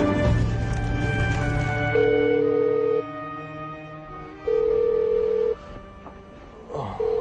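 Telephone being dialed indoors: a steady dial tone with repeated button beeps, close and fairly loud, with no one speaking.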